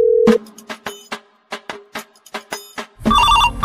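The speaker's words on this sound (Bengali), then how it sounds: "এখন আবার কে ফোন করলো?" A phone ringtone plays loud and close, a repeating tonal melody in short rhythmic bursts that swells into a fuller ring toward the end.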